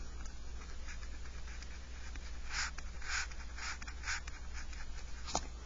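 A pen writes on a graph in a different color, making faint scratchy strokes in short bursts over a steady background hiss, with no talking.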